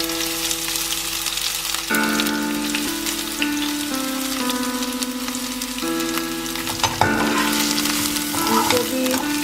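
Chopped onion sizzling in hot oil in a pan for vermicelli upma, a steady bright crackle with intermittent stirring scrapes and background hum, no talk.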